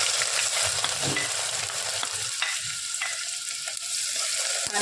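Onion fries in hot oil for a raw mango mutton curry, sizzling loudly and steadily at close range, with occasional stirring clinks and no talking.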